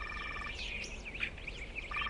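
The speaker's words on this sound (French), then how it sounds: "C'était un petit oiseau qui chantait." A small bird sings faint, quick, twittering phrases with a gap in the middle, over a quiet background hum.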